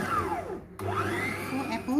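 An electric mixer whirs steadily through cake batter as dry ingredients are blended in for an apple mascarpone cake, with the motor's pitch sweeping up and down and one brief dip in the middle.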